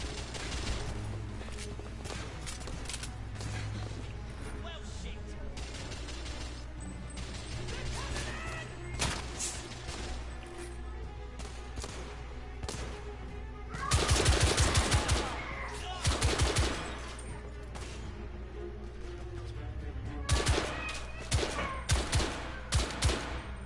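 Automatic gunfire from The Order: 1886 bursts out in loud rapid volleys, with separate shots and impacts scattered between them over a low, constant background rumble.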